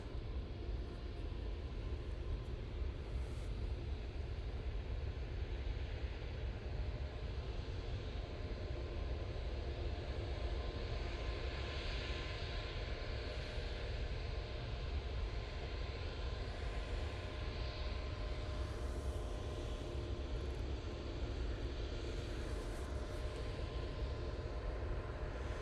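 A Juneyao Airlines aircraft lands, heard as a steady, distant jet rumble with a broad hiss that stays even throughout, with no voices.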